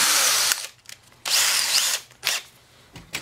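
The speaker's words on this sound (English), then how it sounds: "Switch to the bigger drill bit." A power drill with a bigger bit whirs in several bursts, widening starter holes on a snow blower: two long runs and a few shorter ones, close by with a high, grinding buzz and brief pauses between.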